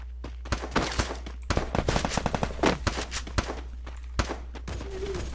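Rapid bursts of gunfire in a first-person shooter video game, sharp repeated shots in quick clusters across the clip, loud and close with brief gaps, no talk over them.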